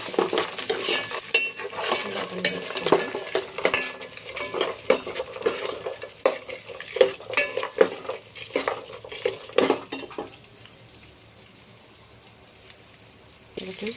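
Peas, tomato and vegetables cooking in a pan, heard as a faint sizzle beneath scraping and clinking from a utensil being stirred, with sharp metal knocks that fade toward the end.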